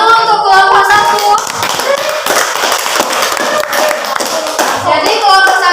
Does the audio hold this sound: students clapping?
yes